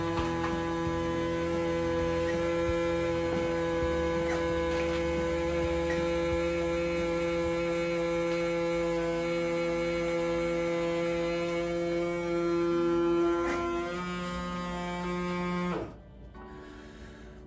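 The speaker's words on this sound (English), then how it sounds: "I'm going to press the vacuum seal button. We'll take all the air out of the bag." A vacuum sealer's pump drones with a steady, buzzing electric hum for a long stretch while drawing the air out of a bag of processed deer meat, then cuts off abruptly near the end.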